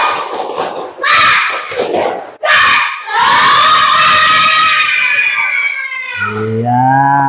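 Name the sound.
class doing the tepuk semangat clapping chant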